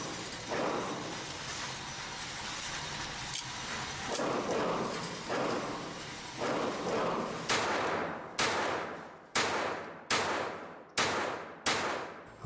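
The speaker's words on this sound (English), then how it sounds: "let's try some headshots with these Federal rounds" Bersa Thunder .22LR pistol firing Federal rounds at a target about 10 yards away, sharp close shots repeated at a slow, uneven pace, with cycling trouble between some of them.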